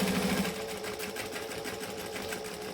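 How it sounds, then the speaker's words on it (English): A sewing machine stitches seams on a crossbody bag, a steady close mechanical whir with a fast even needle rhythm that runs without pause. "So now we just stitch from where we stopped our last stitching to where we stopped on the other stitching."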